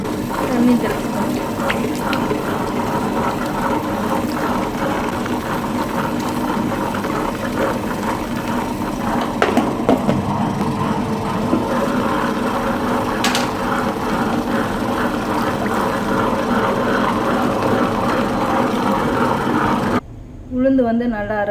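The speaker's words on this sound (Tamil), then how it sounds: "நல்லா ஊறின அப்புறம் கிரைண்டரில் போட்டு அரைச்சி எடுத்துக்கலாம்." A wet grinder churns soaked urad dal with fenugreek and sprinkled water into idli and dosa batter, giving a steady close mechanical rumble with rhythmic scraping that runs nearly the whole clip before cutting off near the end.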